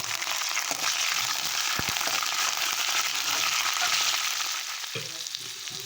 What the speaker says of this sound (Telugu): ఆనియన్ ఫ్రై అయిన తర్వాత 1 పచ్చిమిర్చి, కరివేపాకు వేసుకోవాలి.